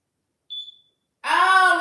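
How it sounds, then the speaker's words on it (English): A smoke alarm with a dying battery gives one short high chirp, then a louder, fuller tone follows after a pause, both clear and close in a quiet room. "it's my battery and the alarm is dying"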